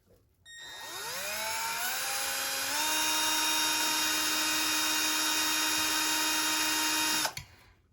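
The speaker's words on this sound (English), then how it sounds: "a hole where I have it marked using a 1/8 inch drill bit" A power drill with a 1/8 inch bit spins up, drilling a hole in a tumbler, its whine climbing in pitch, then holds a steady high-pitched whir for several seconds before stopping abruptly.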